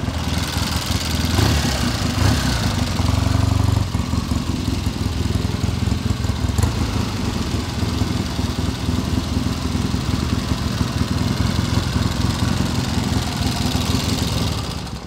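A 1972 Triumph Tiger 650 five-speed motorcycle idles close by, a steady loud rumbling engine note with an even pulse throughout and no talk.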